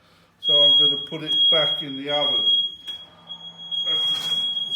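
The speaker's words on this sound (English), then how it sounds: "That's the smoke alarm going off." A kitchen smoke alarm sounds with a steady piercing high beep that runs almost the whole time, while a person talks nearby over it and a lid clatters faintly.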